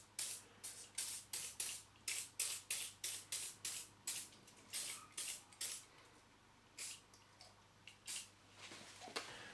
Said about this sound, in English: So I'm just going to spray that all over the label.